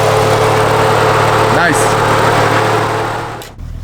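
An Audi 200 Quattro with a five-cylinder turbo engine idles close by in a steady, loud drone with a constant hum. A short voice comes in midway, and the sound drops away near the end.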